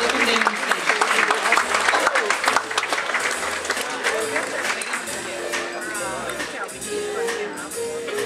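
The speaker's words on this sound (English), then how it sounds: "Another round of applause for you." An audience at a Captain's Circle gathering aboard a Princess cruise ship claps in a lively round of applause, with background music and voices running underneath and the clapping easing off slightly toward the end.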